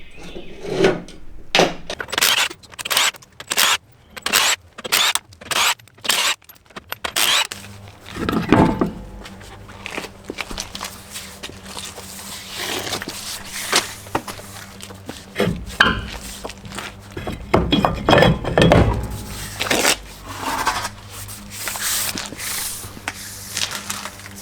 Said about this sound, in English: To remove the center caps, you can just use a bent screwdriver like this